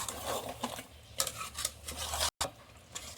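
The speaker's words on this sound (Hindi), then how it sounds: "अब इसको इस अच्छे से मिक्स करके, अच्छे से भुनाई करके ये ग्रीन चिकन बन जाएगा।" Green chicken being stirred and sautéed in a pan in a home kitchen, with scraping utensil strokes and faint sizzling that come in irregular bursts, briefly cut off by a short silence.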